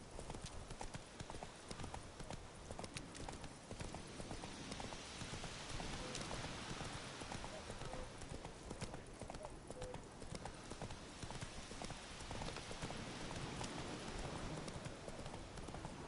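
Steady rhythmic hoofbeats of a galloping horse in The Witcher 3 on PS5 run throughout, loud and continuous, with game sounds and some talk mixed in.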